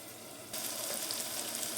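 An onion and tomato curry with potato and drumstick pieces starts frying in a pan, a soft sizzle that switches on abruptly and then holds steady and close.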